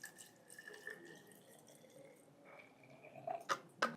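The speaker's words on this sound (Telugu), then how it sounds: "లైట్గా గోరువెచ్చని నీళ్ళు పోసాము" Lukewarm water poured for a kitchen weight-loss drink, heard as faint, quiet trickling with a few sharper drips and splashes toward the end.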